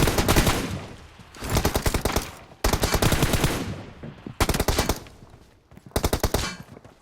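Rapid automatic gunfire in the PUBG Mobile shooter game, several loud bursts of machine-gun fire separated by short pauses, with no talking over it.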